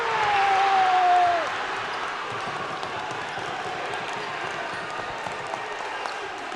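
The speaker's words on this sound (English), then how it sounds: "Crowd comes alive after that jam." Crowd noise swells at a high school boys' basketball game between Bishop McLaughlin and Tampa Catholic after a dunk, a broad steady roar under a brief whistle-like tone at the start, then settling into a sustained gym din.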